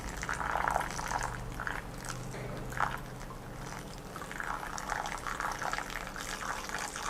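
Thai tea poured from a height in a steady, continuous splashing stream, close by, with brief surges in the flow and no voices.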